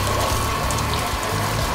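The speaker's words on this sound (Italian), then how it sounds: "Guarda l'acqua come cola." Coolant water trickles and splashes steadily out of an engine hose on a Mini car, a continuous close, wet gurgling stream with no talking.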